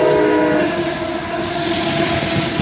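A passing freight train, the Q372, sounds its K5LA air horn in one long, loud, sustained chord that drowns out the rumble of the rails, with no voices.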